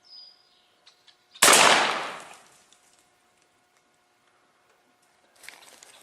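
A single loud, close blast from a 20 gauge shotgun fired at a turkey pattern target outdoors, followed by a fading echo, with faint birdsong and small handling noises around it.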